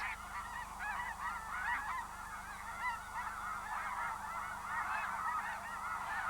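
A flock of geese honks in flight, many overlapping calls forming a continuous, fairly faint chorus heard from a distance with no voices.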